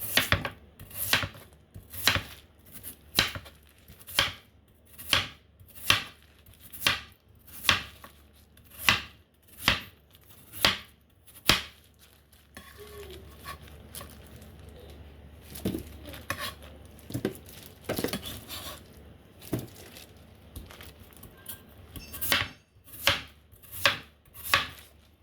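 Knife chopping yam on a cutting board while making Chinese soup in a home kitchen, a run of sharp, evenly spaced thwacks that pause midway among soft clinks of pots, then resume in quicker bursts.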